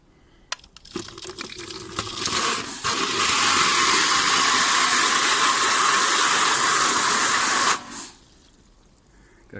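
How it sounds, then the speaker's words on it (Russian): A Kärcher pressure washer sprays cold water while washing a Volkswagen Jetta engine, a loud, steady hissing blast that runs about six seconds after some faint handling noises, then cuts off abruptly. "Сейчас я немножко пущу холодную воду через керхер."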